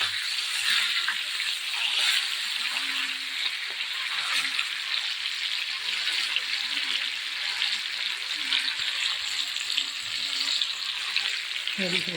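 Fish frying on a tava gives off a steady, dense sizzle that crackles continuously at close range, with no breaks throughout.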